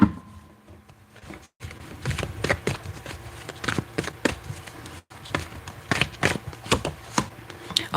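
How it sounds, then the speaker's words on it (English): A deck of playing cards being shuffled, with repeated crisp riffling bursts and flutters in quick rhythmic succession and a couple of brief pauses between them, close up and with no talking. "you saw me shuffle the cards"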